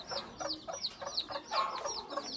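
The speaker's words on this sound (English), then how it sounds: "there's a hen with chicks under here" Hen on a hobby farm clucking with her chicks beneath her, a quick run of soft repeated clucks and chirpy peeps, close and moderately quiet, with no talk.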